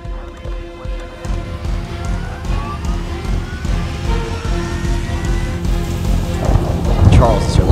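Steady heavy rain pours down with low rumbling thunder rolling underneath, continuous and fairly loud throughout, swelling toward the end.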